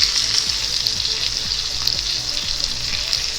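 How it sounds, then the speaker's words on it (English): A bone-in cowboy ribeye steak searing in a hot skillet, a loud continuous hiss and crackle of fat with a steady low hum underneath, close and unbroken. "It's seared all around the edges now."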